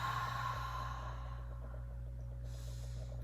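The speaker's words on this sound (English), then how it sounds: "Take big breaths in and big breaths out" Deep, slow yoga breathing comes in and out as a long, audible sigh-like exhale over a low steady hum. It is close and soft, with no speech.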